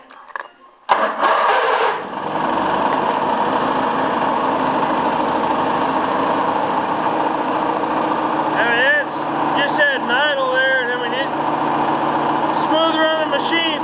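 A stiff small engine, the kind bought for about forty dollars, starts with a sudden loud catch and then runs steadily, close and continuous, with a few brief whistly tones riding over the drone.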